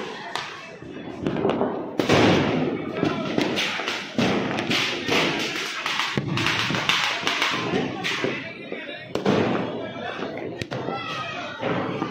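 Diwali firecrackers and bombs burst near and far in Delhi at night, a dense stream of sharp cracks and heavy thuds with irregular rhythm, while people talk and shout underneath.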